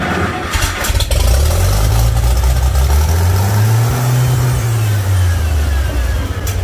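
A Farmall 756 tractor engine cranks, catches and runs up, its low rumble rising and settling into a loud, close idle that has a throttle fault.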